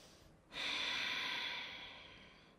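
A single long breath drawn and released through the nose during a gentle morning yoga session, a soft airy rush that swells suddenly and fades slowly, close and quiet with no talking.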